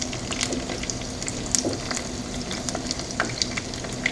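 Rice rolls fry in oil in a pan, giving a steady close sizzle with scattered sharp pops and crackles throughout, no voices.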